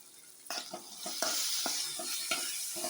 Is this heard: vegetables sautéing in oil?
yes